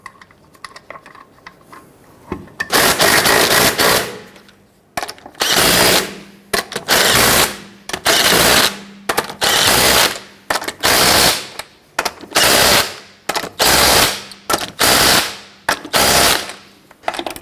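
An impact wrench runs bursts on the rear lug nuts of a 1999-2004 Jeep Grand Cherokee during a brake job. About ten loud, close rattling bursts come in a steady rhythm with short pauses between them, and no one speaks.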